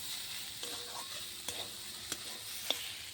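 Fried greens with potato and peanuts being stirred in a pan: a soft, steady sizzle with a few sharp scraping clicks of the spatula, faint and close.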